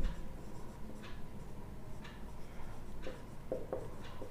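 Chalk or pen writing out a coordinate geometry answer in a maths lesson, heard as faint, quiet scratchy strokes repeating roughly once a second.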